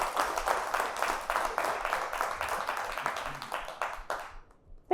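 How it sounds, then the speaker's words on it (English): An audience at a talk claps in a moderate round of applause, individual claps audible in a steady patter that thins out and fades near the end. "Thank you for clapping for that."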